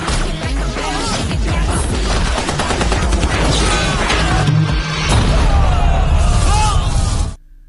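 Rapid, loud bursts of gunfire from a film scene crackle in a continuous barrage, mixed with crashes and booms over a dense cinematic soundtrack, ending abruptly.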